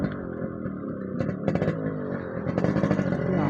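A Yamaha RX100 motorcycle engine held at half throttle, a buzzing two-stroke note close by with rapid firing pulses, a brief rev rise and a slightly louder stretch toward the end.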